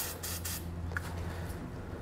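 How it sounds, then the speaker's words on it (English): Penetrating oil sprayed onto four bolts of a 2018 Nissan Pathfinder during trailer hitch installation, heard as close aerosol hissing in a few quick bursts, with a steady low hum beneath. "I'm just gonna spray down each of these 4 bolts with a"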